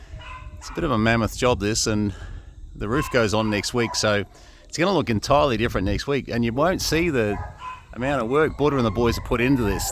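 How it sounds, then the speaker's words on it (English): Several dogs bark in the background at a building site, including one newly arrived and very unsettled dog, heard faintly beneath steady close talk from a man throughout. "This structure here with the dogs barking in the background"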